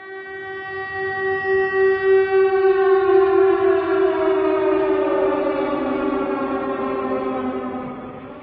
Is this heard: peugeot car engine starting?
no